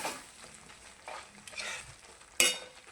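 Masala for a cashew paneer dish frying on a low gas flame in a pan, giving a faint, soft sizzle broken by a few light stirring scrapes and one sharper clink of the spoon near the end.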